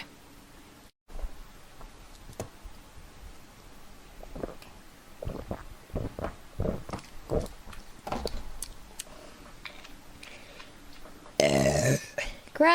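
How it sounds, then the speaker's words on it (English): Burps from a female streamer during a live broadcast, several short throaty eructations in a loose rhythm across the clip, close to the mic and moderately loud, with scattered mouth noises and a louder burst near the end. "Okay, now burp. I have to burp."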